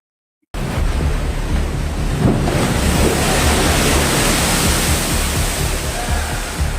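After a brief silent start, heavy waves pound the pier at Kota Agung harbour, Tanggamus, Lampung, in a sustained loud rushing roar mixed with wind noise on the microphone.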